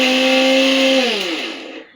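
A mixer grinder runs in a home kitchen while grinding a masala paste. Its motor gives a loud, steady whine for about a second, then slows and winds down as the jar spins to a stop.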